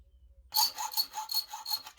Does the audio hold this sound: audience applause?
no